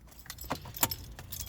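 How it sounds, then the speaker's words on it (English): Car keys are pulled from the ignition of a Mk1 car, giving a close, brief metallic jangle with a few clinks and rattles, alone with no talking. "Nope, take the keys out."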